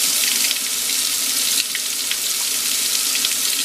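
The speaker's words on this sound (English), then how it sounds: "Make sure hot water's coming out." Water from a newly installed kitchen faucet runs hot into a sink in a steady, close, continuous hiss and splash, alone and without talk.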